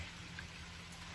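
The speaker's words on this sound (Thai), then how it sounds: "ฝนก็ตกอยู่ด้วย" Steady, soft rain hisses continuously, a faint even patter with no other sounds.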